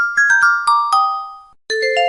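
A cute Korean text-message ringtone plays a quick run of bright, bell-like chiming notes, pauses briefly, then sounds a second cluster of sustained tones, clear and close.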